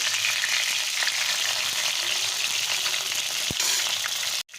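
Pieces of pointed gourd (potol) fry lightly in hot oil, making a steady close crackling sizzle that runs unbroken, with a single soft clink near the end and no speech.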